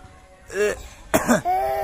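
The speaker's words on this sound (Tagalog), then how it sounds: "Ubo." A tired child coughing after running, a couple of harsh throat-clearing coughs in quick succession, close and fairly loud.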